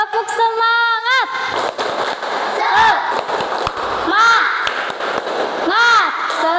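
Primary school children in a classroom shouting a rhythmic spirit chant in unison, their voices rising and falling together, punctuated by sharp sharp claps and thumps, loud and close.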